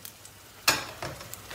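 Eggplant fries in a covered pan with a little oil, giving a soft sizzle that jumps louder for a moment, likely as the lid is lifted, then settles into a quieter crackle.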